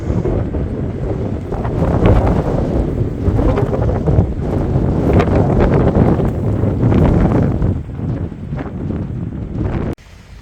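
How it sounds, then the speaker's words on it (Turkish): Strong wind buffets the microphone in loud, rumbling gusts that rise and fall, cutting off abruptly near the end, on the coast at Datça, Turkey. "rüzgar"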